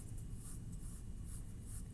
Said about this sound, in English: I'm going to sketch it pretty lightly